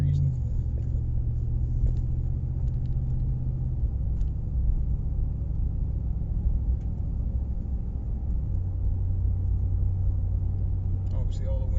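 A Ram truck fitted with a Solo Performance muffler exhaust rumbles deep and steady as it pulls out on a cold start, the low engine drone continuous and close, with someone talking over it.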